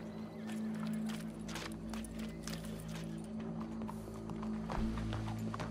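Horse hooves clip-clopping in Red Dead Redemption 2, a steady rhythm of close hoofbeats over a low droning hum, moderately loud and unbroken by talk.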